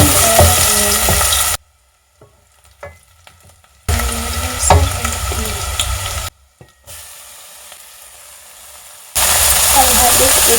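Onion fries in oil in a pot, giving loud sizzling in separate stretches broken by abrupt quiet gaps. A voice can faintly be heard alongside.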